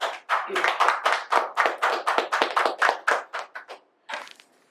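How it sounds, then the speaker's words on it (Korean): An audience at a lecture on the Hundred Schools of Thought claps together before the talk begins: a brisk, continuous burst of close clapping that thins out and stops, followed by a brief final patter. "박수 한번 치고 시작합시다"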